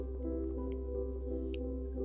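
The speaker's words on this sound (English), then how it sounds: "I just squeezed quite a bit of blood into there" Freedom SFX fake blood being squeezed onto liquid latex and dripping, a few small wet squishes and drips close up over a steady low hum.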